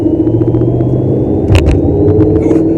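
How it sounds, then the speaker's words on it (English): A deep, steady engine rumble from a Mercedes SLR supercar, continuous throughout with a brief louder burst partway through. "it definitely rumbles even more than a regular AMG car"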